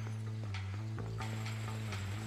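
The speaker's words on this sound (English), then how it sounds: "Okay, we got a horse there." Horse hooves clopping in Red Dead Redemption, several dull steps over a steady, loud tonal game hum, no voices.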